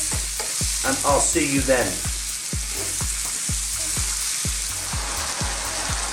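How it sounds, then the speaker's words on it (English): Mushrooms stir-fried in a pan for a mushroom and potato curry give a constant bright sizzle, punctuated by regular knocking strokes of the spoon about every half second, with a brief voice speaking near the start. "So stir fry this around for, again, another 2 or 3 minutes"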